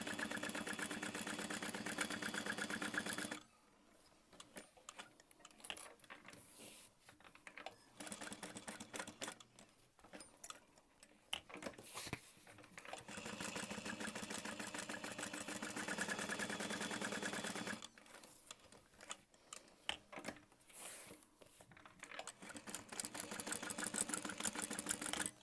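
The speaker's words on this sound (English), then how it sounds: "So we're gonna sew all the way around" A sewing machine stitches all the way around the outside edge of a fabric piece, running in two long steady bursts with quieter handling pauses between them, close and alone.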